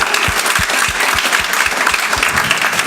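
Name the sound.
audience applause for technical team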